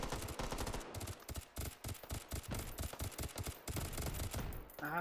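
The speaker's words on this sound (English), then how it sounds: "Ah, I'm getting shot." Dense, loud gunfire from the VR game Hot Dogs, Horseshoes & Hand Grenades, rapid automatic bursts and shots crackling almost continuously for several seconds with no talk.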